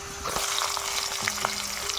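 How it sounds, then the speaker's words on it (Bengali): Whole garlic cloves, bay leaf and onion frying in hot oil in a pan, a steady close sizzle with small crackles and a faint stirring clink, no voices. "তাতে দিয়ে দেবো গোটা রসুন এরপর দিয়ে দিলাম তেজপাতা এরপর দিয়ে দেবো পেঁয়াজ"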